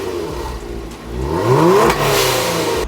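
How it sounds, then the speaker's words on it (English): A stock Kia Stinger exhaust revving up, its engine note rising and falling over a couple of seconds with a sharp crackle near the peak, close and loud. "how to get your stock exhaust or your stock Kia Stinger to do a quick pop and"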